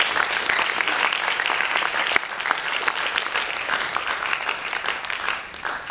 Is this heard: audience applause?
yes